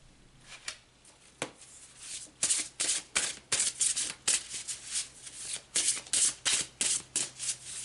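Tarot cards shuffled by hand in a string of quick riffling bursts, close and fairly quiet, building from a few scattered flicks to a steady rhythmic run of shuffles with no talking.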